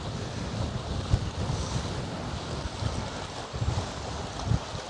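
Rough sea churning in a bay at Balaklava, Crimea, a continuous surging wash mixed with strong wind and microphone buffeting, fairly near and steady with no talking.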